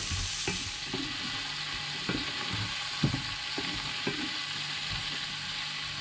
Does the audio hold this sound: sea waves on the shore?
no